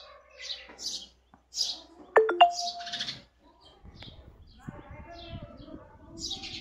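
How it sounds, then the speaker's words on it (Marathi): Sparrow chicks chirp from a nest box in short, high bursts, close by and interspersed with a sharp electronic-like tone and some background voices. "चिमणीचे पिल्लं त्याच्यातून निघालेले आहे."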